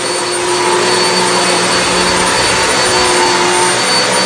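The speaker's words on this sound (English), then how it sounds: "The difference that this Hoover is really making in the carpets." A Hoover High Capacity vacuum cleaner running over a dirty carpet, producing a loud, constant, close whine and roar with a steady pitch throughout.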